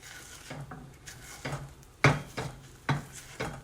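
Eggs cook in a pan while a utensil stirs and scrapes them in a series of soft, irregular strokes. A faint sizzle sits underneath, and a couple of sharper scrapes stand out partway through.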